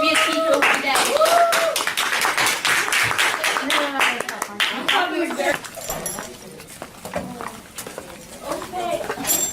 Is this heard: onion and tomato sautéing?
no